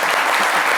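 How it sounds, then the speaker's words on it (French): An audience applauds Safarel at a lively midday show, with dense, loud clapping that holds steady and unbroken through the short burst. "On applaudit pour mon vieux Safarel au passage"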